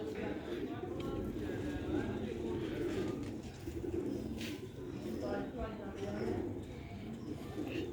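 Lal Moti pigeons coo repeatedly at close range, with soft rolling calls overlapping someone talking and faint rustling in the background.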